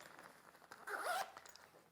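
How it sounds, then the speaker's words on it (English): A metal YKK zip on the flap of a Pacsafe Toursafe EXP34 backpack is pulled open in one quick, close rasping stroke, quiet and without talk. "we have another zip here which is on the flap"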